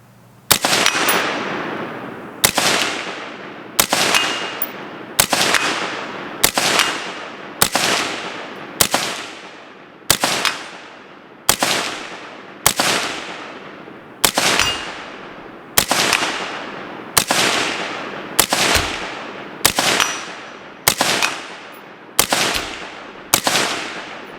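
Rifle shots fired from prone at 100 yards with a custom rifle build outdoors, about eighteen loud sharp cracks at a steady pace, each followed by a short decaying echo, with no talking.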